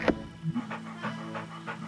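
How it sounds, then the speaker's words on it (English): A dog in the video game Goldenheart pants in short rhythmic breaths with a brief whine or yelp near the start, fairly close and alone without talk. "That's our dog."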